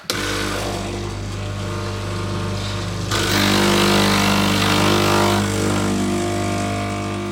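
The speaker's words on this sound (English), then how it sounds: "on this machine, which is a Breville Barista Max, I'm going to run a 2-shot, so 2 cups" A Breville Barista Max espresso machine pulls a double shot, its pump droning loudly and steadily throughout. The hum grows a little louder and fuller about halfway through, and no one speaks over it.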